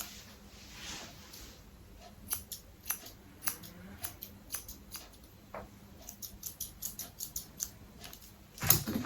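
Small scissors trimming hair snip in quick, irregular clicks, quiet and close, with brief pauses between bursts of cutting.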